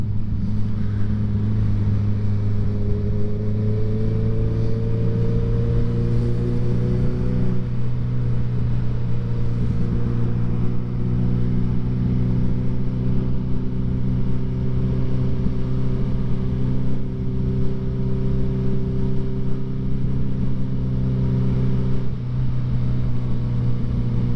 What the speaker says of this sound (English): Still loving the old CB, like. I think I might just keep this bike